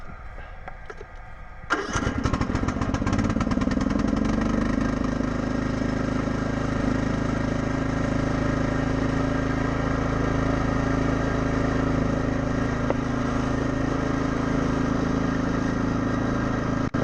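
A lawn tractor raised on a side-lift jack cranks briefly and then catches, its small engine settling into a loud, steady running drone with no talking.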